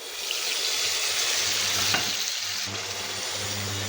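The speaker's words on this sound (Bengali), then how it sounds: "এবার দিয়ে দিচ্ছি বেটে রাখা মশলাটা।" Ground spice paste hitting hot oil with fried potatoes in a pan, giving a steady loud sizzle and frying hiss with some stirring, close up and without speech.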